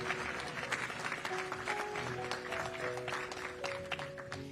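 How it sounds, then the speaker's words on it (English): Applause from a conference audience at an anti-monopoly summit, thanking the sponsors, with a steady sustained clapping throughout at moderate distance. "Just please give a round of applause to all of our sponsors once again."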